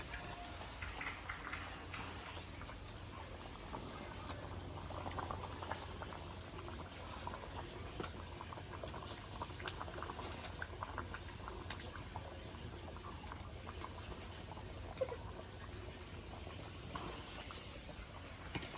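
Rohu fish curry with drumstick stalks in a thin gravy simmers in a pot, with a steady bubbling and soft liquid hiss that continues evenly throughout and some faint clinks.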